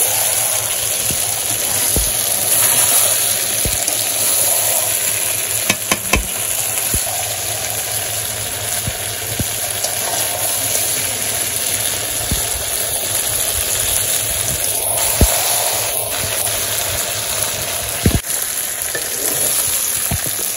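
Meat and potatoes sauté in a pan over a village cooking fire, a loud, steady frying hiss with occasional stirring clatters running throughout, no talk.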